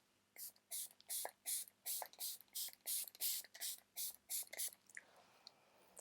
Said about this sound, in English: So let's see if this is actually a mist.